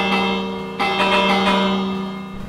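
Church bells ringing in Minecraft, a steady sustained peal with a renewed strike partway through, loud and alone before fading slightly.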